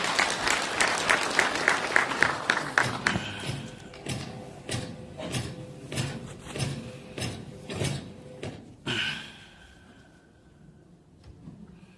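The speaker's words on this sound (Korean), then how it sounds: "힘찬 박수와 함께 만나보겠습니다." Audience at a Korean Democratic Party politician's event giving applause, a dense burst at first that thins into scattered, separate claps and then fades, fairly distant and alone with no talk.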